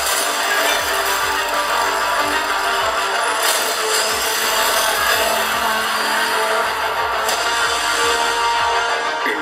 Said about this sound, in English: beneath that screen and on the other side of the keyboard are Dolby Atmos capable speakers that sound like this